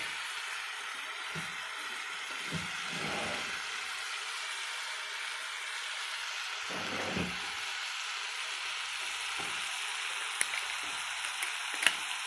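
Tomatoes softening in a pan over a mushroom dish give a steady, moderate sizzle that runs the whole time. Occasional soft stirring scrapes and a few sharp clicks break the sizzle, and nobody talks.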